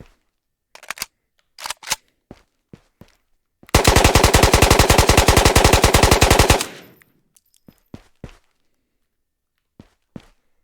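An AKM rifle fires in full-auto in the video game Ghosts of Tabor: one loud, rapid, evenly spaced burst of about three seconds, bracketed by scattered single clicks and thuds.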